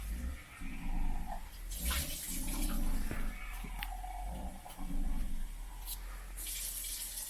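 Water runs and splashes into a cup being filled for bread dough, with uneven gushes and surges over several seconds, close and fairly quiet.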